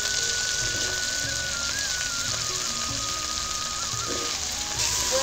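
Potatoes frying in hot oil in a home kitchen, giving a steady, dense sizzle that runs unbroken throughout at close range, with no voices over it.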